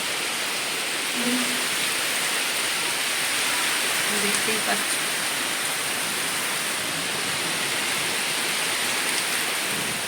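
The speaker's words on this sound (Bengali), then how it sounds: "প্রচণ্ড জোরে বৃষ্টি নেমেছে, প্রচণ্ড জোরে, সাথে হাওয়াও চলছে" Steady, dense hiss of heavy rain with a gusty wash of wind, while a person speaks briefly underneath.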